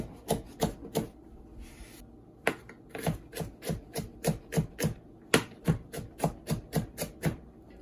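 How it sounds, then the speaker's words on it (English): A shallot being finely chopped with a knife on a cutting board, a series of crisp close taps in uneven bursts, roughly twenty strikes with a short pause partway through. "I'm just going to do a little fine little chop just to break it down a little bit more."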